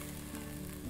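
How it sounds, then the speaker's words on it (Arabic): Onion, celery and garlic with a little salt and cinnamon sautéing in a pan, a brief close sizzle with faint stirring scrapes. "شوحت البصل والكرفس والثوم مع شويه ملح وشويه قرفه"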